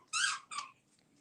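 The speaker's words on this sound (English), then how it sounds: "if you hear a squeaky toy" Two squeaks from a dog's squeaky toy, squeezed by a golden retriever, close and loud: a long squeal then a shorter one, followed by near silence.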